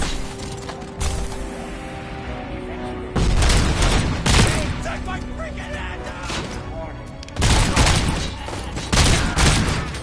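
Gunfire bursts from RoboCop: Rogue City, with loud volleys around three and eight seconds over a busy mechanical game backdrop of clanks and creaks, interspersed with quieter stretches.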